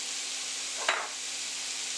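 Seasoned beef browning in a pan with garlic powder, paprika, black pepper, bouillon and thyme, a soft steady sizzle with one brief clack of a utensil partway through.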